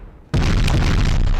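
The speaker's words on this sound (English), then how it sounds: "Let's get those main battle cannons firing on this bit." Main battle cannons firing in the space game Space Engineers: a sudden heavy boom erupts after brief quiet and rolls into a loud, sustained, rumbling blast of explosions.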